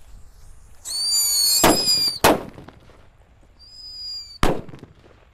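Jumbo paper-wrapped firecrackers go off outdoors: whistling, squealing fuses followed by three sharp, loud bangs spaced irregularly, each with a short crackling tail over quiet background.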